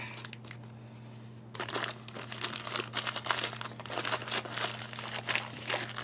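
A patrol ration food pouch from Australia is crumpled and crunched by hand, a quiet pause followed by several seconds of close, continuous crinkling and crackling plastic over a low steady hum, with no talking.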